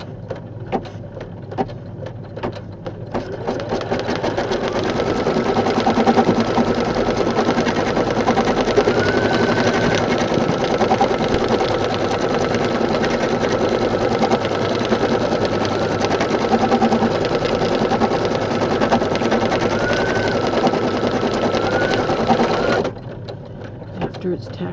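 A home embroidery machine in a 4x4 hoop stitches a tack-down line around a clover appliqué on fabric, a steady, loud, close mechanical chatter that runs for about twenty seconds and stops near the end.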